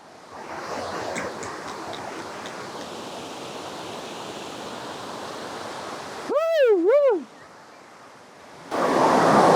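Steady roar of the Kothapalli waterfalls fills the scene as a broad, constant wash of falling water, briefly interrupted by a rising and falling warbling tone before the rush returns louder at the end.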